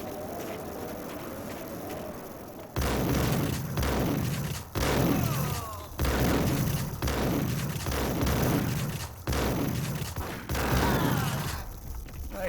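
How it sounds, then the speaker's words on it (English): Shotgun blasts from Max Payne's weapon in the video game, a series of loud booming shots roughly every one to two seconds, each with a sharp broadband attack and decaying tail, preceded by quieter game ambience. "I love Max's shotgun."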